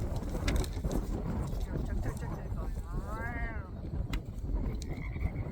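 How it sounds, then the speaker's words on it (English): Deep, repeated tree frog croaks, a "chuk chuk chuk" from several frogs in a chorus, under a steady breezy background with some outdoor noise and occasional higher calls. "those are tree frogs in the background. You can hear that deep, like chuk chuk chuk."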